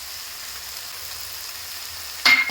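Kashmiri chili powder and turmeric frying in a pan for a squid roast, a steady soft sizzle throughout that swells into a louder, sharper burst of frying near the end.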